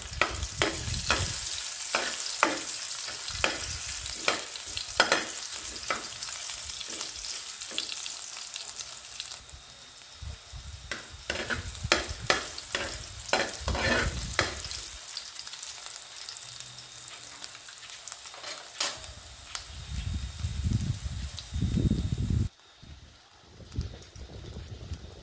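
Ginger frying in hot cooking oil sizzles steadily, with clattering bursts of stirring and scraping in the pan that come and go over a long stretch.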